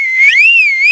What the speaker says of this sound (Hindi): फिर प्यारे लाल जानवरों की तरफ सीटी बजने लगता